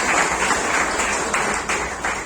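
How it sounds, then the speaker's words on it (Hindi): A crowd at a ceremony honouring Delhi's National Games 2022 medal winners applauds steadily, a dense, continuous clapping that holds for a couple of seconds, fairly close and loud. "आप सबके लिए एक बार जोरदार ताली"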